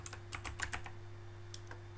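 Fingers type a name on a computer keyboard, quick light clicks in short bursts with a brief pause before a final couple of taps, close and quiet over a steady low hum.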